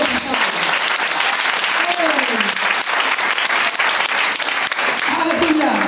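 A church congregation claps and cheers in praise of God, with a dense, sustained roar of applause mixed with voices shouting throughout.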